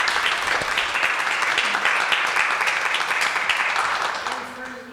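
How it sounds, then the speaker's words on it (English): An audience at an artist talk hosted by the Lowell Arts Center gives a sustained round of applause, a dense wash of many hands clapping steadily before tapering off slightly, with a voice or two emerging near the end. "just one more round of applause for the Lowell Arts Center for hosting all of this"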